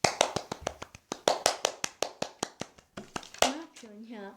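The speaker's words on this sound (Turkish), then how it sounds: "Ezini alkışlayarak buraya alıyoruz" Close, sharp hand claps ring out in a quick, regular run of about twenty as a child named Ecin is welcomed in, followed by a voice speaking.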